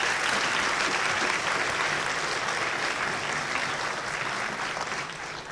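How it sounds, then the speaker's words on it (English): An audience at a student awards convocation gives Dr. Burns a round of applause, steady loud clapping from a large crowd that holds evenly and fades slightly toward the end. "Burns a round of applause."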